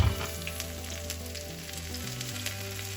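Onions going into hot oil left from frying fish, with whole spices, for a fish molly cooked in coconut milk; a steady close sizzle and crackle runs throughout with no talking.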